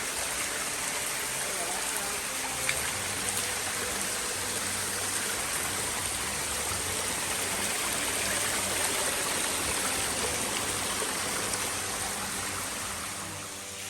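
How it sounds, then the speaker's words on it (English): UA Waterfall at the big rock in Seri Alam, a steady broadband rush of falling water that fills the scene continuously at moderate level, with no voices standing out over it. "Here we are, UA Waterfall once again."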